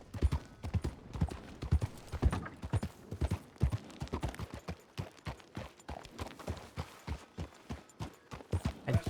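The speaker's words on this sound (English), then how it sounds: "I just thought I heard horses." Horse hoofbeats thud in a quick, uneven rhythm, several animals trotting at a moderate distance, continuing throughout with no voices over them.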